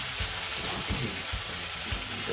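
A blended chili and onion paste for sambal tumis fries in a hot pan with a loud, continuous close sizzle, broken by soft, regular stirring thumps.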